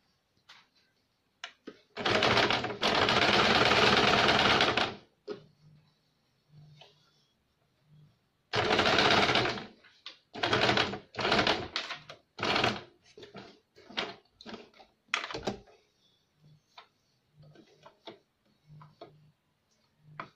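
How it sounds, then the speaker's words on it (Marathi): A sewing machine runs a finishing seam along the neckline of a princess cut blouse, whirring in a long burst, then in many shorter stop-start runs of rapid stitching, close up with no talking. "आता आपण आहे ना याच्यावरून अशी एक फिनिशिंग साठी शिलाई देऊया."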